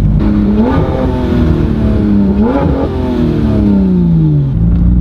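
A loud Porsche GT3 RS engine revs hard, its pitch climbing and falling through several quick gear changes and downshifts, close up and continuous.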